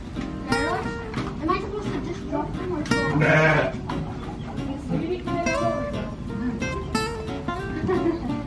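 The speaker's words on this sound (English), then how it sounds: "My sheep, my piggies." Sheep bleat repeatedly nearby at a petting zoo in Tbilisi, Georgia, several animals calling over one another amid chatter and background voices.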